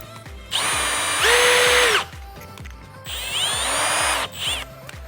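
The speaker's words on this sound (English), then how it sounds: "so that when I drill this, it's protected" A power drill bores with cobalt bits during an aluminium radiator install on a turbo Subaru Impreza, two loud whining bursts rising in pitch as the motor spins up, separated by a short pause, with faint mechanical clicks underneath.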